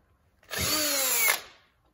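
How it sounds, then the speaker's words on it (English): A cordless drill runs on weak, roughly ten-year-old batteries. It gives one whining burst of about a second that rises in pitch, then cuts off, heard alone. "I think it's time for some new drill batteries."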